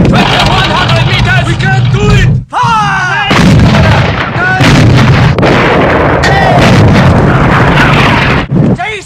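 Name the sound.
gunfire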